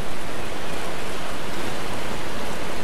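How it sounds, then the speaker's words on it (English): Heavy cascading water from a waterfall in the game Miscreated, a broad, unbroken hiss and roar like pouring rain. It is close and loud and holds steady throughout, with no talking over it. "Waterfall sounds great."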